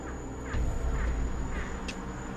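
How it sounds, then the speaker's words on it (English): A bird calls outdoors near an abandoned building, a few harsh caw-like cries repeating at roughly half-second intervals over a steady background hum, fairly close and moderately loud, with no talking. "that's a bird now"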